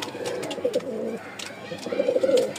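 Male Giribaj pigeon cooing close by in a Dhaka loft, two rolling coo phrases with a pause between them, low and throaty over faint background noise.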